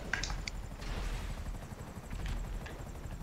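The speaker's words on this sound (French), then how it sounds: "Oh, c'est la guerre d'hélico, les gars." Helicopters battle in a multiplayer mini-game, with continuous rotor chop under bursts of rapid gunfire and scattered sharp impacts, all fairly close, with no voices.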